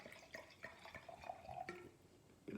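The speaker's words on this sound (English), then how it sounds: "Let's pour a little more here." Wine poured into a glass, a close run of gurgling splashes and drips with a faint rising tone as the glass fills, no voices.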